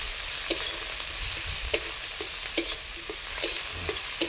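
Chopped tomato and cumin seeds frying in a pan, with a continuous sizzle under intermittent scraping and stirring clicks at a moderate, irregular pace, heard close up with no voices.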